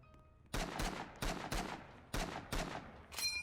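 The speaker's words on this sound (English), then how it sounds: "Where's the person that was firing at me?" Roblox shootout gunfire: several sharp, loud shots in separated bursts, some doubled in quick succession, with brief quiet gaps between them and a final fainter burst.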